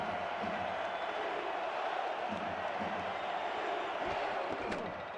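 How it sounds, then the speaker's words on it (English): A large stadium crowd at a football semifinal roars steadily and loudly throughout, a dense wash of cheering with a commentator's voice faintly underneath. "Crowd as loud as we've heard them all night."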